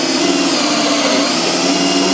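Milwaukee power drill drilling steadily and close by, a continuous loud whirring grind with no break over its whole length.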